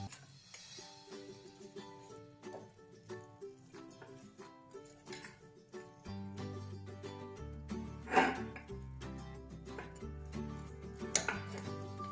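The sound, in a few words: stirring beetroot curry in a pan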